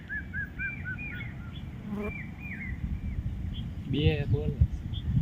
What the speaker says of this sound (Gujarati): જાબા પક્ષી બોલે ની બાપૈયા બોલે તમે સાંભળો